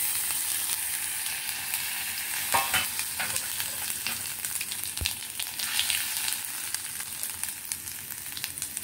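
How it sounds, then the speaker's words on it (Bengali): Whole spices (cumin seeds, half a black cardamom with its pod and a little nutmeg) sizzle in hot oil, a bright crackling fry broken by a few scraping stirs of the pan. "ফোড়নে আমি দিচ্ছি একটা বড় এলাচের অর্ধেকটা, গোটা জিরে, বড় এলাচের চোকলা, কিছুটা জায়ফল, আর বেশ কিছুটা জিরে, গোটা জিরে।"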